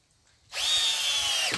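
A power drill drives screws into an old tire being built into a trampoline. One close, loud burst of high motor whine lasts about a second after a quiet start, then cuts off.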